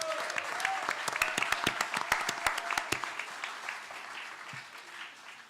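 A small group claps at a PWA Windsurf World Cup press conference on Bonaire, distinct hand claps for about three seconds that thin out and fade, faint and somewhat distant.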